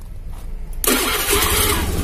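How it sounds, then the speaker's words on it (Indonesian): A car engine cranks briefly and catches at under a second, then runs in a steady loud idle nearby, heard during a fuel pump pressure check. "Untuk motornya kita nyalakan."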